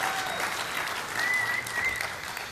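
A conference audience at an education event's opening welcome applauds, a broad even wash of clapping from a large room with a faint tone running over it.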